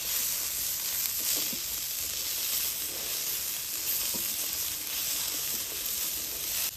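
Chopped carrot, peas and capsicum fry gently in a pan on low heat, producing a steady, even sizzle and hiss with faint stirring and no talking.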